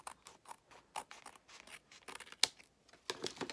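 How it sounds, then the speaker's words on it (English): Scissors snip white paper trim from the edge of a three-pocket gate folio, giving a string of quick, close, irregular cuts and rustles with no talking. "Trim this white off of here."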